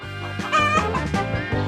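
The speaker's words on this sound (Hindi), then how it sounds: "मुर्गी?" A chicken clucks several times in quick succession, close by and fairly clear.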